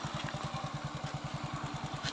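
Small-displacement Honda CZ-i 110 motorcycle engine fitted with a turbocharger, idling steadily with a fast, even low pulse and a faint hiss from the spinning turbo, close and continuous.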